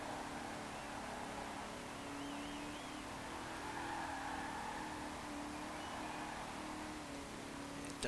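A car on wide tyres sliding into oversteer in Forza Horizon 4, with a steady loud engine roar and a thin tyre squeal rising over it as the grip gives way, no voices.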